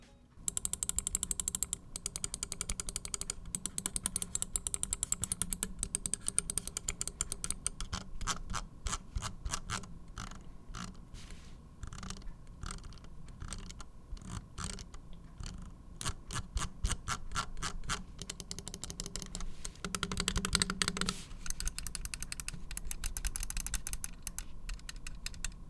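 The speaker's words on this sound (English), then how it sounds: "let's go ahead and do a sound test really quick so you can see how all the buttons sound" Finalmouse Tenz gaming mouse buttons and scroll wheel being tested, with rapid bursts of sharp clicks and stretches of fast ratcheting scroll-wheel ticks, close and clear, the scroll sounding slightly rattly.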